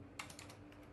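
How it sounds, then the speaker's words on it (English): Fingers tapping a computer keyboard while entering pfSense custom options, a quick run of close, light key clicks over a faint steady hum, with no voice. "Now open custom options, type forward dash zone."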